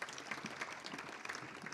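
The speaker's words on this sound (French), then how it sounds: "On l'applaudit." Audience applause at an automotive industry conference, a steady, fairly dense patter of clapping hands throughout a short burst, moderately loud with no speech over it.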